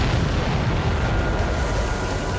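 A destroyed enemy transport explodes in the combat flight game Ace Combat 7, producing a sustained, loud, rumbling blast with a heavy low end that rolls on steadily for a couple of seconds without letting up.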